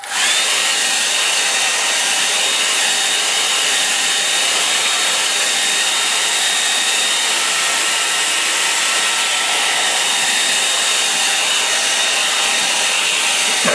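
A hair dryer blows steadily on a watercolour painting of a sunrise over a moor, a loud, close, unbroken whirring rush that starts abruptly and runs without pause.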